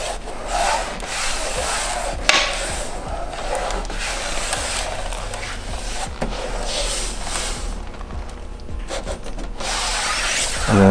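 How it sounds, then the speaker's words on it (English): Vinyl wrap being tacked down over a VW Mk2 Tiguan badge gives close, continuous rubbing and scraping strokes with a few sharp taps, steady throughout with no voices. "I'm just going to start tacking the vinyl down."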